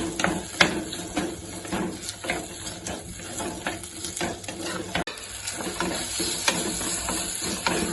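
Dry fish curry with masala onion paste and kudampuli stirred in a pan on the stove, with a steady sizzle and repeated scraping, clicking strokes of a spoon, loud and close.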